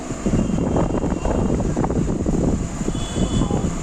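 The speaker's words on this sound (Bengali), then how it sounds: "হেভি লাগছে হাওয়াটা।" Strong cold wind buffets the microphone outdoors, a loud, steady low roar with continuous rumbling gusts throughout.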